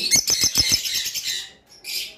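A pair of red-headed opaline lovebirds chirps in quick, bright bursts, a rapid run of close squawky calls followed by a brief pause and another short flurry, loud and near.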